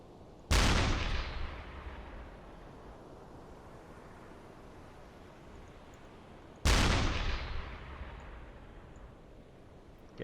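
U-boat deck gun in the Uboat video game firing two heavy shots about six seconds apart, each a loud sharp blast with a long rumbling decay over steady wind and sea noise.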